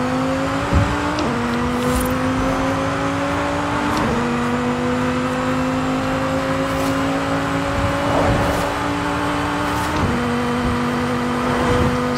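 The 1,737 hp Formula Drag Viper in Forza Horizon 5 drives with a loud, continuous engine drone that climbs through gears, with distinct shift drops every few seconds and no talking.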